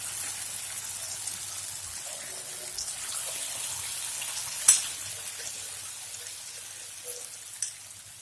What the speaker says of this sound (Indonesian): Goreng tahunya hingga kuning.